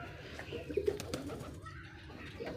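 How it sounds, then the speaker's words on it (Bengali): A wild pigeon coos softly and steadily at a distance, low and faint against quiet outdoor background noise. "খুব সুন্দর কবুতর"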